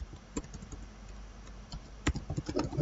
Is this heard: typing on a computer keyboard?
yes